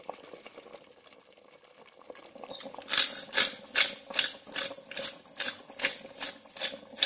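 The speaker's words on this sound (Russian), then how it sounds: "я хочу, чтобы за эти 15 минут вот так вот оно будет кипеть" Chicken and pork ribs simmer in beer, starting with a faint low bubbling that swells into a regular, rhythmic series of louder bubbling bursts, heard up close.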